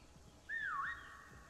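A single faint whistle taunt in the Prop Hunt video game: one rising-then-dipping whistled call lasting about half a second over quiet background noise.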